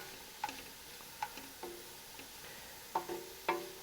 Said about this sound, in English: I'm just going to let these onions saute